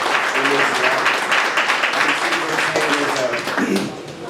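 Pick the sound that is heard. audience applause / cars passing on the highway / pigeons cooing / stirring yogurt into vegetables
audience applause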